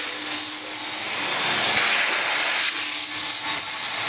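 A steady, loud whooshing suction with broadband hiss from a carpet extractor pulling sand from carpet, running continuously close by with no speech.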